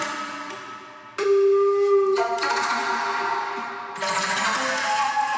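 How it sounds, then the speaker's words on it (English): A flute sample plays a short phrase of sustained, breathy tones that shift in pitch, clean and close with no other sounds. "So I found this flute sample on Splice,"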